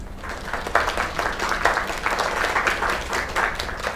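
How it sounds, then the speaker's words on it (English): A video game crowd applauds with steady, dense clapping that holds at an even level for several seconds, fairly close and full. "Another round of applause."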